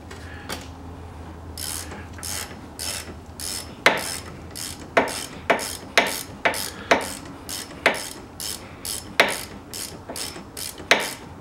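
Ratchet loosening a 19mm caliper guide pin on a 2006–2013 Lexus IS250 rear brake, a series of crisp close clicking strokes in an irregular rhythm, alone without talk.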